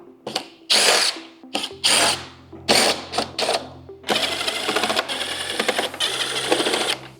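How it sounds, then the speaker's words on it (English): A power driver backs out T25 Torx screws on a 2024-2026 Harley-Davidson Road Glide, loud close whirring in several short bursts, then a longer steady run near the end. "Next, we're going to remove these 3 screws on each side."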